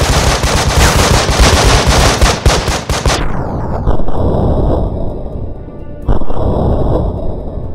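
Sustained automatic gunfire from a tactical shooter video game, loud and dense bursts of rapid shots for about three seconds, then a ringing tail broken by another short burst near the end.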